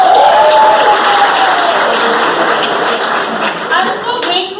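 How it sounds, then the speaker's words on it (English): Audience at a stand-up comedy competition in Copenhagen bursts into loud, dense applause with some cheering, fading slightly over several seconds; a whistle-like tone slides near the start. "So give yourself a huge round of applause."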